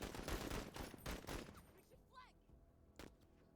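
Gunfire in the tactical game Menace, a burst of shots crowding the first second and a half, then quieter scattered reports with a sharp single shot near the end, mixed with faint game effects.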